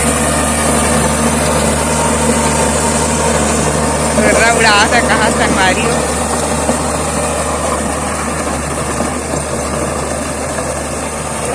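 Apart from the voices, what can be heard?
tractor engine running in farm field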